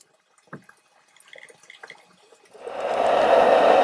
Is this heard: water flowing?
yes